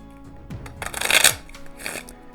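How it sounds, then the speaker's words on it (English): A deck of playing cards being shuffled up close: a rising riffle of flicking card edges that builds to a dense flutter, then a softer second riffle, with no talking. "I like to give the deck a couple of shuffles"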